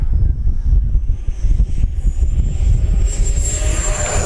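An FMS Viper 90mm electric ducted-fan RC jet takes off, a steady roaring rush with a rising high whine toward the end, loud and continuous with some wind buffeting, no talking.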